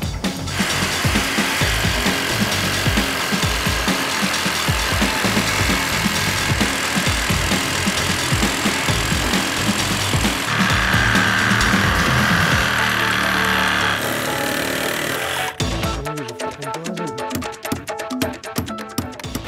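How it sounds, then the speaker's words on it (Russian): A saw cuts through a steering shaft lock in a car, grinding with loud, continuous rasping strokes in a steady rhythm, close and harsh, shifting to a sharper, choppier scraping near the end, with no talking. "попробуем распилить вот в этом месте"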